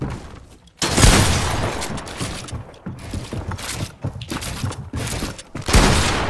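Makeshift rifle in Fortnite fired in rapid, spammed bursts, with loud clustered shots and clacking mechanical reloading sounds between volleys.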